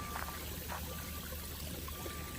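Runoff from the hills beside the Coosa River in Alabama, near a clay washout and landslide, makes a soft, continuous trickling and rushing wash, faint and steady throughout with no voices.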